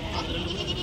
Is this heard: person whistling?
no